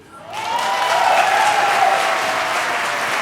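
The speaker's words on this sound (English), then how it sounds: "you're applauding" TV studio audience applauding on a daytime talk show, loud sustained clapping that swells in quickly and holds steady to the end.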